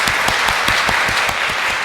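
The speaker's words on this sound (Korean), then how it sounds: "박수로 환영하겠습니다" A church congregation at a Sunday worship service claps to welcome a new member, producing brief, close, rhythmic applause with evenly spaced beats that stays steady throughout.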